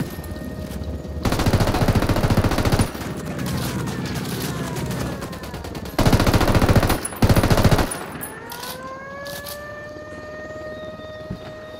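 Gunfire in the video game Ghost Recon Wildlands, loud bursts of rapid automatic fire in several volleys separated by quieter stretches, ending in a fading ringing tone.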